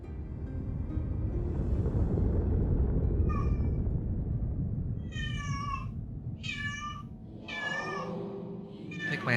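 A cat in the game Final Fantasy XIV: Endwalker meows several times, distinct clear meows arriving in quick succession over a loud, rumbling low ambient bed.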